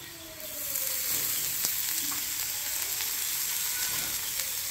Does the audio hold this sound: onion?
yes